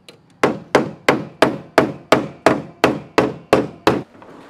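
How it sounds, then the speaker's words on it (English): A hammer strikes the back of a dented car body panel to flatten it, eleven sharp metallic whacks at a steady, even rhythm, close and loud with no talk. "I'm putting a hammer in the back of the section here to flatten it out"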